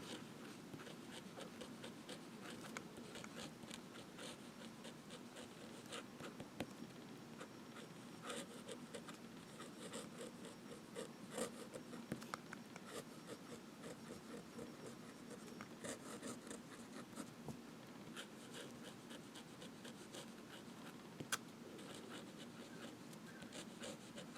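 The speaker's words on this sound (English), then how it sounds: "Let's check out the reverse writing." A Parker Frontier fountain pen is drawn upside down across paper, making a faint, continuous fine scratching with small irregular ticks, close and quiet.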